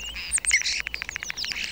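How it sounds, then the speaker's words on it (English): Starlings call in a quick burst of sharp chirps, whistles and squeaky notes, several birds overlapping in a busy, chattering flurry at close range. "Starlings are noisy, sociable birds."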